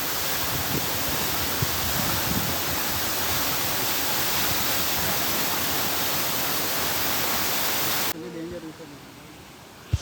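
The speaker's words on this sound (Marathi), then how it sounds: "डायरेक्ट वॉटरफॉलच्या खालीच आलो इथं मस्त" Heavy, roaring rush of falling water at Mormarwadi waterfall near Lonavla, heard from directly beneath the cascade as a loud, constant wash of noise that drops away sharply near the end.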